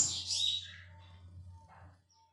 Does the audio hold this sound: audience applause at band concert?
no